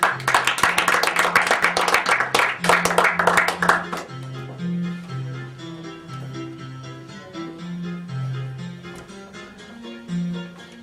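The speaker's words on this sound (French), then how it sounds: "Donc veuillez applaudir Julien qui va jouer son sketch devant vous." An audience at a comedy night claps loudly for about four seconds before a sketch, then the applause stops and a low repeating musical bassline carries on alone.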